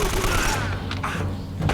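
Blind-fire gunshots from the video game Uncharted: Drake's Fortune, a dense burst of rapid shots running nearly continuously and loud, with a talking voice faintly underneath.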